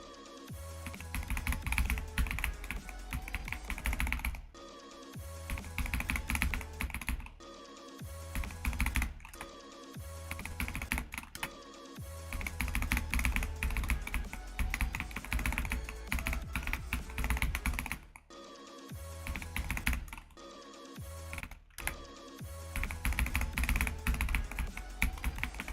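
Fast, continuous typing clatters on a full-size computer keyboard with a number pad, dense keystrokes broken by a few brief pauses, close and clear with no talking.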